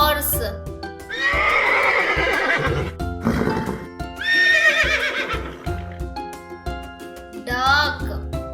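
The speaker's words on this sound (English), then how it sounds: "horse," A horse neighs in several loud, close whinnies with shaky rising and falling pitch, and some clip-clop in between.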